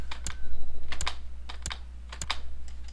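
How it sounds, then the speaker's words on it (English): A space bar on a computer keyboard is struck while playing the strategy game Crusader Kings II: several sharp, close plastic clacks at irregular intervals over a low, steady electrical hum, with no talking. "That's me hitting my keyboard for the space command, which pauses the game."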